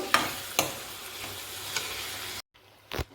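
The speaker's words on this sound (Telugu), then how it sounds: "నేను అల్లం వెల్లుల్లిపాయ పేస్ట్ కూడా ఆయిల్లోనే ఫ్రై చేసేసుకుంటున్నాను" Onions with ginger-garlic paste frying in oil for an Andhra mutton mango curry, a soft sizzle broken by a few sharp utensil clicks, then a brief pause before another clatter; no speech.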